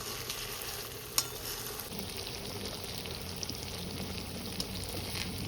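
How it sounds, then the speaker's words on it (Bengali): Marinated hilsa fish crackles and sizzles steadily in hot oil, close by, with a few sharp pops and spatters. "ম্যারিনেট করা মাছগুলো দেওয়া হয়ে গেছে। এরপর আমি এটা কিছুক্ষণ ভেজে নেব।"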